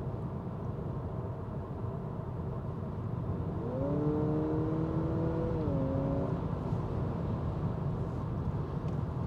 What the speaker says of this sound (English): So we have enough charge, enough capacity here to drive in EV mode.